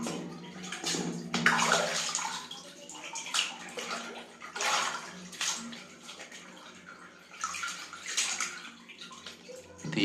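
A mobile phone goes into a bucket full of water, with repeated splashes and sloshing surges rising and falling over steady gurgling water.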